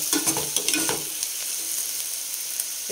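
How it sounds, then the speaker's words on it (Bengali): Small red potatoes deep-frying crisp in a pan give off a steady, close sizzle, with a few stirring clicks near the start and no talking. "এই যে দেখো আলু ভাজা করছি।"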